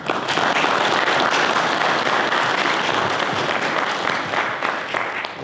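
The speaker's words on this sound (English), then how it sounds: "How about one more round of applause for all the speakers?" An audience at a wildfire symposium in Fallbrook, California, claps steadily and loudly in a dense round of applause that carries on for several seconds before tapering slightly.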